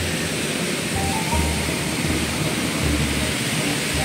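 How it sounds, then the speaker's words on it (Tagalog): Heavy rain pours onto a slick city road in Surigao City, a dense, steady roar with low rumbling beneath, continuous and loud throughout with no talking. "Malakas yung ulan dito guys."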